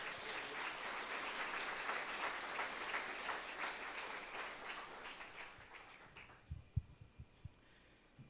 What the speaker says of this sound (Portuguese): Salva de palmas para eles aí.